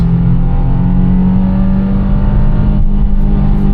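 Subaru WRX (VB) engine revving hard toward redline in a short first gear, a loud, steady, rising drone heard from inside the car with no talking.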